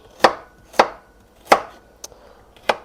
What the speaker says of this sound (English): And then carrots, when I get done chopping them.